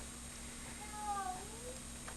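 A house cat gives a short, faint meow over a steady background hum, with no other sounds around it.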